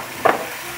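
Fried potatoes with garlic and onion stirred in a pan, one brief scraping sizzle standing out over a low steady background, with no talk.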